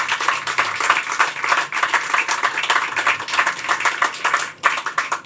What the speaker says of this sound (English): Please, can we just have a very quick round of applause for our panel today?